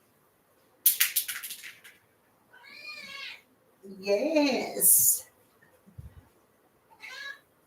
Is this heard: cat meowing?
yes